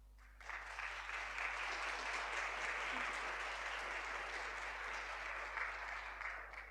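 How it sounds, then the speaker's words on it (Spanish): An audience claps steadily at a talk on HIV/AIDS. The dense applause starts abruptly and carries on evenly for several seconds with no voices over it. "Un gran aplauso a Karina."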